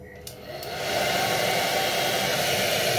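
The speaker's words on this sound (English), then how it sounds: "So, hair dryer, gonna get noisy." A hair dryer starts up and runs steadily, a loud continuous whooshing hum that swells in the first second and then holds level.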